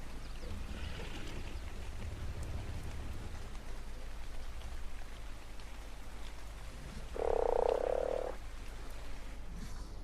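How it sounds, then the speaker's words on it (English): Frog croaking in the ARK survival game, a continuous low chorus under steady rain with one louder, nearer croak standing out near the end; no talking. "There's a couple of other frogs in the area."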